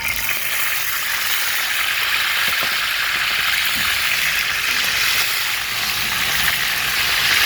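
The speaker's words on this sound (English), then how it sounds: "we're just gonna go ahead and put it on the hot iron skillet" Marinated striped bass steaks frying in a hot cast iron skillet, a steady, loud hiss and crackle of oil that holds evenly throughout with no talking.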